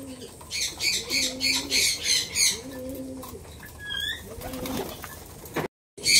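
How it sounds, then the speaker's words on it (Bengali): Pigeons feed and call close by, a steady run of low, repeated coos mixed with sharper squawks, then a short silent gap just before the end. "তো বন্ধুরা পায়রাগুলো কি খুব আনন্দের সঙ্গে খাচ্ছে।"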